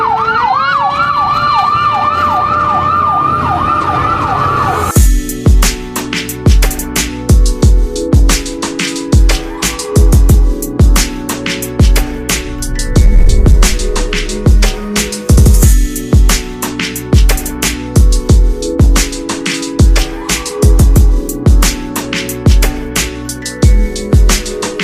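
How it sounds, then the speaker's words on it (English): A loud wailing siren rises and falls, then gives way to steady, rhythmic bursts of emergency siren sound close by amid Mexico City traffic. "But there's always sirens going off."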